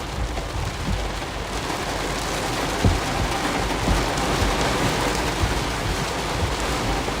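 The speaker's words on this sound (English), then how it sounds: "Literally hear the rain." Steady rain falling on an open field during a tornado-chasing storm, a dense constant hiss with scattered heavier drops and faint rumbles, close and unbroken, with no voices.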